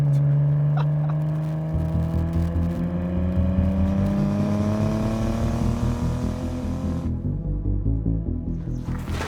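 A 1994 Nissan R33 Skyline GTS-T with a 500 hp RB30 engine revs loudly and close, pitch sweeping upward through a sustained climb before dropping off near the end, with no talking.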